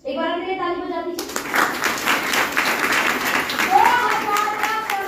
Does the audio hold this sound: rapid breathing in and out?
no